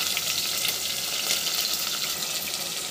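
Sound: onions frying in pan for jackfruit curry

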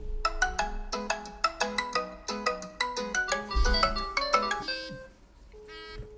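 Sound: Masx Moss II smartwatch ringtone for incoming Bluetooth call

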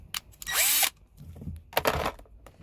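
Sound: power drill with step drill bit

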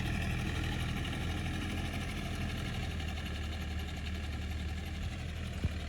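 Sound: DMTZ 504 tractor engine idling

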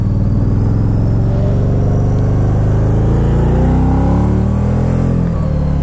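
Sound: Can-Am Spyder RT-S three-wheeler accelerating, spinning its tires

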